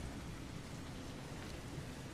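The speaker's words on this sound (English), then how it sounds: "Here comes the rain." Steady rain falling in the video game Resident Evil Revelations 2, a soft, continuous wash of droplets without pauses, quiet and even throughout.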